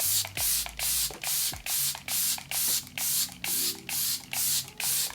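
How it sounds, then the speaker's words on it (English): Charlotte Tilbury Airbrush Flawless Setting Spray mists onto a face in about ten rapid, even, hissing pumps, close and loud, one after another with short gaps. "I just drowned my skin in a nice layer of the Charlotte Tilbury Airbrush Flawless Setting Spray"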